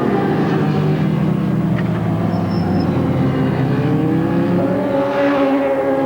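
Superbike race motorcycles, including a Ducati and a Kawasaki, roar around the Oran Park circuit at a 1989 Australian superbike race, producing a loud, continuous engine drone with shifting pitch as they rev and pass.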